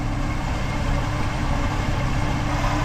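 A 1967 Chevy Nova V8 fitted with a carb cheater idles steadily and close by, a dense low rumble that holds an even, unbroken level throughout with no voices.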